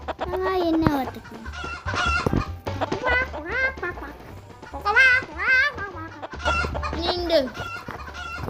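Chickens on a farm in the Stick Man Party video game cluck and squawk in repeated close, loud bursts, with a few pauses between calls.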